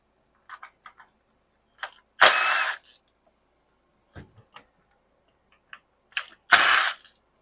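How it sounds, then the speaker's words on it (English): A 10 mm swivel socket on a ratchet works loose the coil pack bolts of a first-generation Toyota Tundra engine, giving sparse quick clicks and two longer rasping ratchet sweeps, close and isolated amid quiet. "I've got a 10 mil on a swivel socket"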